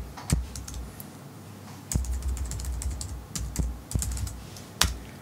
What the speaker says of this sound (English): And here I can type in whatever I want.